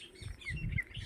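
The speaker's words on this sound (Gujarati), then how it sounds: "અને પક્ષીઓનો અવાજ તમે સુંદર મજાનો સાંભળી રહ્યા છો।" Birds in village hills in the morning give brief, faint high chirps over soft low rustling and footstep-like thumps.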